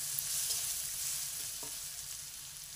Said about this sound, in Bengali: আলুটা দিয়ে দেব। দিয়ে একটু নাড়িয়ে নিচ্ছি।